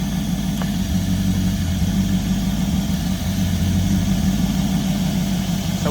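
Chevrolet Camaro 2SS V8 idling with an air leak after a manifold install: a steady, close, low rumbling idle with a slight rhythmic lope and no voices.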